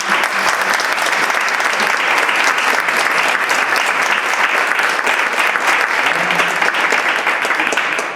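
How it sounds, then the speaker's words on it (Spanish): A steady, loud round of audience applause at a literary gathering, dense continuous clapping from a crowd that holds evenly for several seconds with no speech over it. "Un aplauso, por favor."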